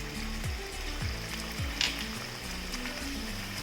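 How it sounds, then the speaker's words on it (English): Onions sizzle steadily in a pan for a lobster curry, a close, continuous crackling fry with occasional scrapes and stirring knocks, and no talking over it. "Let this fry for 1 minute till the raw smell of the onion goes"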